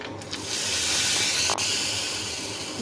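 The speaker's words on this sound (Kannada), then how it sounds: "ಕಾದ ಎಣ್ಣೆಗೆ ಸ್ವಲ್ಪ ಸಾಸಿವೆ, ಕರಿಬೇವಿನ ಎಲೆ, 1 ಒಣಮೆಣಸಿನಕಾಯಿಯನ್ನು ಹಾಕಿ ಚಟ್ನಿಗೆ ಒಗ್ಗರಣೆ ಕೊಡಿ." Mustard seeds, curry leaves and a dried chilli dropped into hot oil for a chutney tempering, giving a steady loud hiss of sizzling oil with a brief sharp pop midway, no voices.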